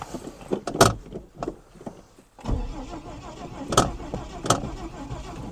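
Engine of a Ford XF ex-ambulance, idle for six years, turns over and catches after a pause, settling into a rough running rumble with a few sharp clicks and knocks layered on top.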